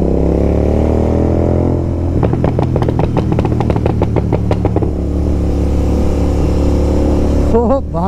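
A Royal Enfield Continental GT 650 with a Code 6 exhaust tune idles, then revs hard with a rapid string of crackling exhaust pops before settling back to a steady rumble.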